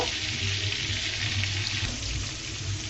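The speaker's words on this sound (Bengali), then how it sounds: "আগে থেকে তেলটা আমি বসিয়ে দিয়েছি, মাছগুলো এক এক করে দিয়ে দিচ্ছি।" Fish pieces frying in hot oil, a loud and steady close-up sizzle with a dense hiss that holds evenly throughout and eases slightly at the end, no one speaking.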